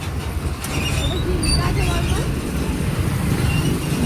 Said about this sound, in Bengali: গাইস ট্রেন যাচ্ছে।